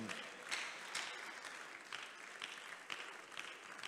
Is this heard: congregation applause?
yes